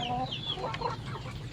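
A young rooster kept in a cage clucks in short, close calls over a constant background hum, with no voices.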